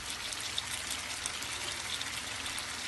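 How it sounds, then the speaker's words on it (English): Water pours steadily from a cup into a pot of Jamaican-style curry chicken, a continuous close gushing splash with no pauses. "we're gonna be adding some water. So I'm going to add 6 cups of water"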